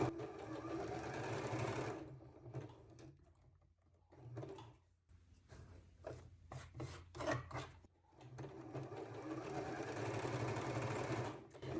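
A sewing machine runs in two long steady bursts while gathering fabric with elastic, with quieter stretches of rubbing and handling of the cloth between them, heard up close.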